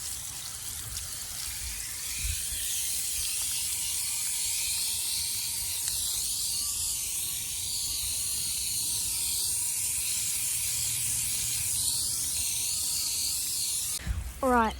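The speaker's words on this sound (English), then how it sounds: "give the drivetrain a bit of a hose down just to get all the other bits off" A garden hose sprays water steadily over a bicycle drivetrain during a wash. The close, continuous hiss runs unbroken for about fourteen seconds and ends in a short clatter.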